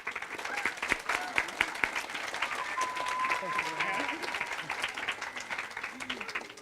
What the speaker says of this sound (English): she deserves a special thanks for everybody and a round of applause